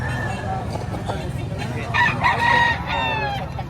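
At a chicken seller's stall in Padre Garcia market, a rooster crows once, close and loud, over a low murmur of background noise and clucking.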